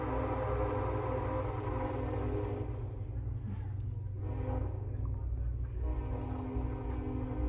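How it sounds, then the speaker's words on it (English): Train passing by with a steady low rumble and a sustained horn-like tone throughout, loud and continuous, with faint talk in the background. "Oh, I love the train."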